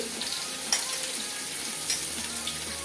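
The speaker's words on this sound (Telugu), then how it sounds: "గ్రేవీ అంతా మంచిగా వేగాలండి" A thick gravy of ground cumin, fried onions, coriander, green chilli and garlic sizzles steadily in a pan, a soft continuous frying hiss with a couple of brief stirring clinks, no talking.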